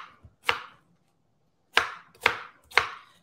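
Knife chopping potatoes into dice on a cutting board: four sharp, close chops, a lone stroke followed by a pause and then three in quick succession, with no talking.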